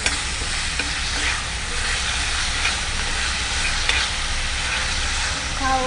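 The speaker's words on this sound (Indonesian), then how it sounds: "Jadi tinggal ditumis aja pakai minyak secukupnya." Spice paste sizzles and sautés in oil in a pan, a loud, continuous crackling fry heard up close, stirred throughout with no talk over it.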